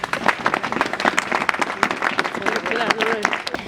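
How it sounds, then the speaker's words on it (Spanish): An audience at a school ceremony breaks into applause, a dense, steady wash of many hands clapping, fairly close, with some voices mixed in. "para quien pido un fuerte aplauso"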